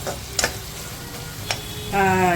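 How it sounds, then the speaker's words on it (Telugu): Small onions frying in oil in a pan, a soft steady sizzle with a few sharp stirring clicks, and a voice briefly speaking near the end. "చిన్న ఉల్లిపాయలు వేపుకోవాలన్నమాట"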